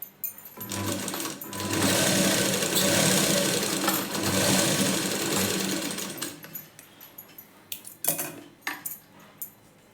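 A sewing machine stitches the front of a size 36 blouse in a loud, steady, close mechanical whir for about six seconds, then slows into scattered clicks and taps of handling.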